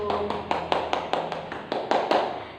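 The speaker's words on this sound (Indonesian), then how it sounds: "Ya, tepuk tangan dulu dong untuk Ayu." A classroom group claps for a student in a steady, even rhythm: about a dozen sharp, crisp claps in near unison, close and fairly loud.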